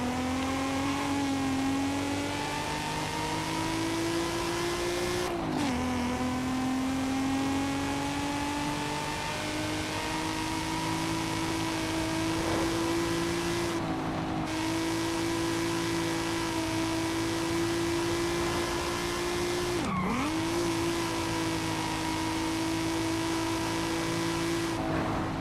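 A car engine in Forza Horizon 5 holds a steady, strained drone, with brief dips and rises in pitch at gear changes, loud and continuous with no talk.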